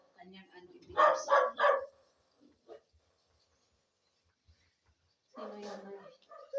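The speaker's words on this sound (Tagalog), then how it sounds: "Tumatahol yung aso namin, si Tiger." A pet dog barks in a home, a close burst of three loud barks followed by quieter yips and, after a pause, another bark-like outburst.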